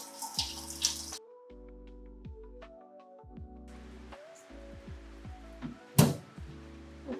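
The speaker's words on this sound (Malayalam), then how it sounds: "ഇനി ഇതിൽ വെള്ളം നിറക്കുകയാണ് ചെയ്യണത്" Tap water runs into a bottle with a gurgling stream whose pitch climbs steadily as it fills, with brief pauses and a sharp knock near the end.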